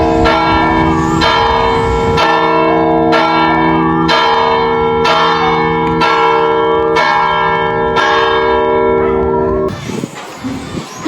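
A church bell rings steadily with repeated strikes and long sustained overtones, loud and close, before the tolling breaks off near the end into rustling noise.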